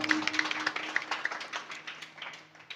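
An audience claps at a Marathi kirtan, a steady patter of many hands at moderate distance that gradually fades, with a faint sustained tone underneath.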